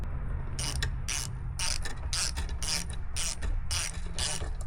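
A bolt being tightened on a KTM 690 motorcycle fork cartridge with a ratchet, about nine crisp, evenly spaced clicking bursts over a steady low workshop hum, close up and without talk.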